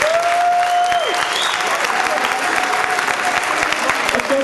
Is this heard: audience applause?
yes